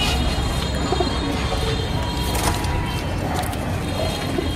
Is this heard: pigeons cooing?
yes